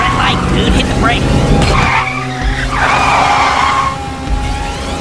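Tyres skid and squeal as a car brakes hard in GTA V, a loud screeching sweep with engine noise beneath and voices talking over it.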